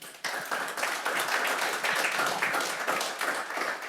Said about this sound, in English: please join me in giving all of our awesome speakers and companies a big round of applause